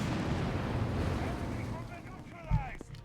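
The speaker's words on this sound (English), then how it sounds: "Sappers wiped out with a grenade assault" Grenade assault explosions in Company of Heroes 3 burst as a heavy boom near the end, following a rumbling battle bed with a voice speaking over it.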